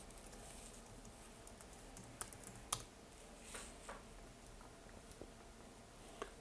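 Typing on a computer keyboard while laying out a mobile screen design, a faint scattering of soft key clicks with a few sharper taps, quiet and irregular, with no talking.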